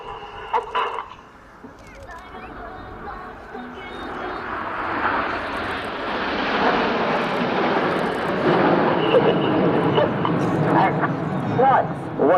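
Red Arrows RAF jets pull up into the Typhoon loop at an air display at Volkel. A steady, broad jet roar swells from about four seconds and holds loud to the end, with a public-address commentator talking over it.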